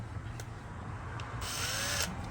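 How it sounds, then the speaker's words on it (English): A power drill whirs and grinds in short bursts, drilling out a bolt on a differential, a fairly quiet, steady mechanical whine. "I'm working on getting drilling out the bolt on the differential"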